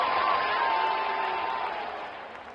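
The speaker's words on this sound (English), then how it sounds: "Crowd is going crazy." Cricket crowd at an India versus Australia T20 match roaring after a boundary, a dense wash of cheering that starts loud and gradually fades over a couple of seconds, with a faint tonal hum running through it.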